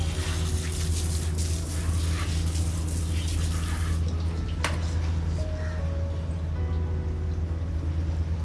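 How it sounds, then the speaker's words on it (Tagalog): Water being poured into a coconut bonsai, a steady splashing and trickling stream that runs for several seconds before easing off into a few faint drips over a constant low hum. "Tapos lalagyan na natin ng tubig."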